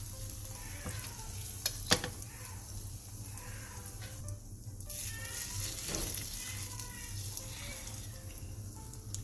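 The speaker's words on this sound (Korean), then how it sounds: "고기 산적, 새우 산적, 햄 단무지 산적에 부침가루와 계란물을 입혀준 뒤 중약불에서 부쳐주세요" Steady crackling sizzle of battered meat, shrimp, and ham with pickled radish skewers coated in egg wash pan-frying over medium-low heat, close and continuous with occasional soft taps.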